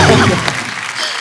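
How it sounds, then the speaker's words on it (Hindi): Studio audience at The Kapil Sharma Show applauding, a loud close burst of dense clapping and cheering voices that thins out after a moment. "जोरदार तालियां होनी चाहिए जरा।"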